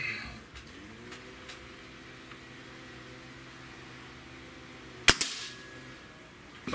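A single sharp crack from a .30 caliber air rifle, such as a Gamo Swarm Magnum or Hatsan 135, fired indoors over a steady fan-like hum, followed by a brief metallic after-ring.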